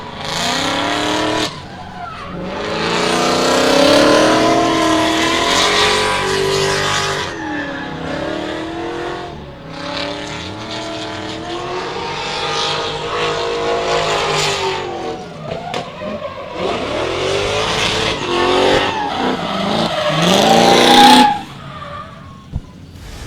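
LS V8-swapped BMW drift car at Meremere Drift Park in New Zealand, engine roaring and revving hard with screeching tyres through long sustained slides, loud and close, dropping briefly between bursts before cutting off near the end.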